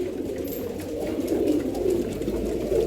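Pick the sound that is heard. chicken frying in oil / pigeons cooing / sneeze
pigeons cooing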